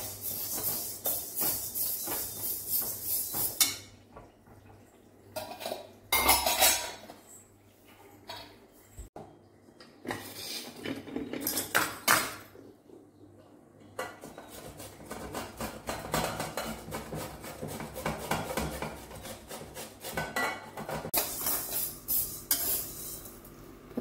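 Urad dal being dry-roasted in a pan over low heat for idli podi, with stirring scrapes and faint rustling of lentils against the metal, steady and close throughout.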